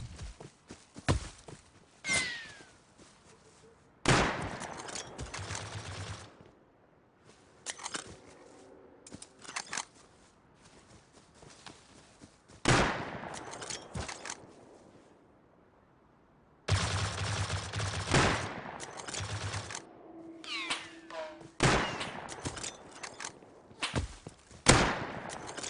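Bursts of video game gunfire from a jackhammer shotgun and M249 machine gun in an online survival shooter, several loud clustered volleys separated by quieter stretches with footsteps, no talking.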